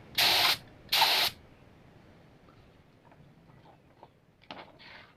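An ANI compact mini LVLP spray gun sprays paint in two short loud hissing bursts close by, followed by quiet handling clicks and small mechanical ticks, then a softer brief hiss near the end.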